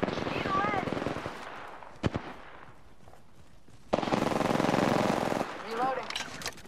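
Automatic weapon fire in the video game Apex Legends, two sustained bursts of rapid shots with a single sharp crack between them, mixed with game sounds and a voice.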